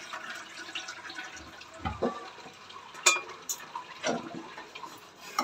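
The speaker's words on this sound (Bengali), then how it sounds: "আর এবারে এদিকে চাল আর ডালটাকে ধুচ্ছি" Rice and lentils being rinsed by hand in water in a home kitchen, with soft sloshing, scattered drips and small clinks of a metal pot, fairly quiet and close, with no talking.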